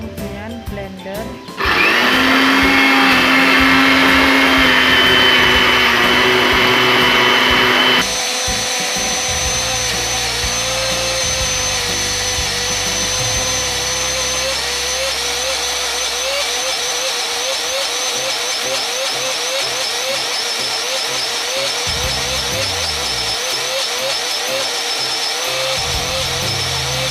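Electric blender grinding chopped red chilli with a little water into a spice paste for balado eggs with basil, a loud steady whirring motor that shifts pitch partway through and keeps running.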